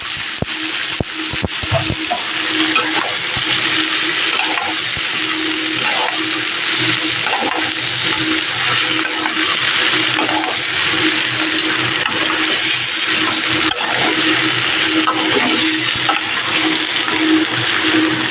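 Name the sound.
bottle gourd pieces added and stir-fried in pan with prawns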